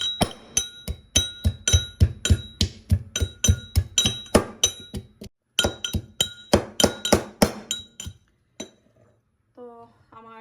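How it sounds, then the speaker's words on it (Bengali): Garlic and ginger are pounded in a mortar with a pestle, a steady run of sharp, rhythmic clinking thuds, close and loud, that slows and stops near the end before a few faint trailing sounds. "এখন আমি রসুন আর আদা আমার উপর একটা গুটনি দিয়া ভালো করিয়া গুটিয়া নিমু"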